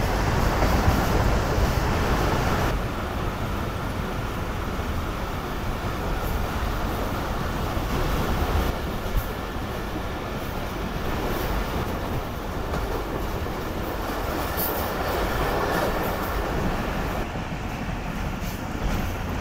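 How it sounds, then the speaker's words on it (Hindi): The Karakoram Express between Lahore and Karachi, pulling old coaches at cautious speed, gives a steady, loud rumble of wheels on rails with a continuous rattling clickety-clack inside the carriage and no talking. "तो जब से ट्रेन चकजमरा से निकली है बस इतनी स्पीड में आगे बढ़ रही है"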